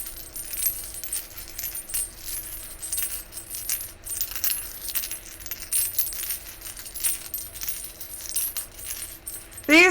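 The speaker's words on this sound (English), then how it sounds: "But wait until you hear these dice. The dragon metal ones." Metal dragon dice rolled around in cupped hands, giving a steady stream of bright, chime-like metallic clinks and jangles, close up and continuous, with a brief sharper ring at the very end and no talking.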